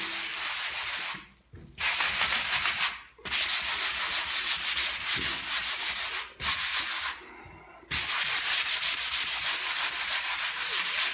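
Sanding over repaired wall spots in an apartment gives a loud, close, rhythmic scratchy rubbing, broken by several short pauses; no voices are heard.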